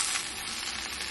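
A quesadilla sizzles steadily in a hot pan, a brief close crackle of frying with no voices.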